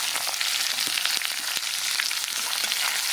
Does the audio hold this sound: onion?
yes